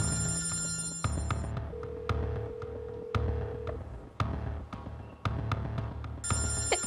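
A telephone rings in repeated electronic bursts, an on-off pattern of bright tones recurring several times at moderate level, with no talk over it.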